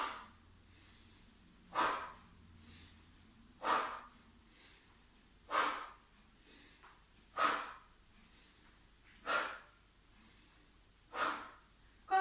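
Deep yoga breaths, each exhaled through the mouth: six or seven strong, slow whooshing exhales recur about every two seconds, close and clear, with quiet pauses between them.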